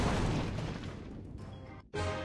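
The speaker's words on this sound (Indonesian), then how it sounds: "Giant bomb dar meledak." A giant bomb explosion in Clash of Clans booms loudly and fades over about two seconds, then a fresh burst of game sound cuts in abruptly.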